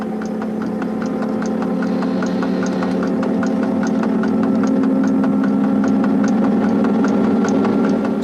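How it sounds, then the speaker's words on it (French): A continuous mechanical drone with a steady low hum and rhythmic ticking pulses, loud and close, holding level throughout, from the traction motors of an SNCF CC 6500 electric locomotive accelerating out of Paris Austerlitz. "Et l'on entend le chant des moteurs, si caractéristique de la mise en vitesse des 6500."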